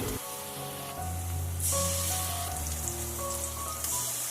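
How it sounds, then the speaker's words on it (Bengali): Eggs sizzle steadily in hot oil in a pan, a close, continuous crackling hiss like rain on a surface, with faint tonal hum underneath and no talking. "ওই তেলেই আমি ডিমগুলিকে হালকাভাবে একটু ভেজে নিচ্ছি"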